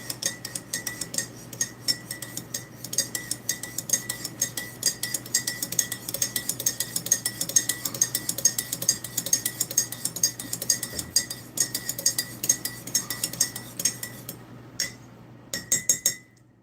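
A spoon stirs coffee in a mug, making quick, repeated close metallic clinks against the sides in an irregular rhythm that runs nearly continuously before stopping near the end; no speech.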